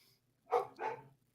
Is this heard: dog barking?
yes